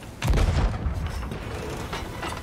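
A ship's cannon fires in the pirate video game Sea of Thieves: one heavy, close boom, then a lingering rumble and creaking mechanical noise.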